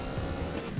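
A Sultan car accelerating in GTA SAMP, a short burst of dense low engine roar, close and steady with no voices.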